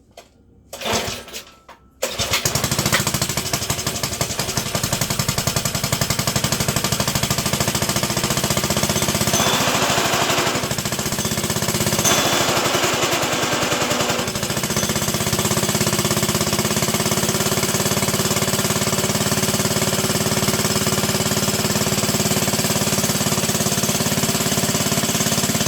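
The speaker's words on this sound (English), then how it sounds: "Hopefully it starts up as easy as it did before." Trail Horse GTO 300 engine pull-started with a couple of brief rope yanks, then catching and running steadily at a loud, rough idle for the rest of the clip with a slight change partway through.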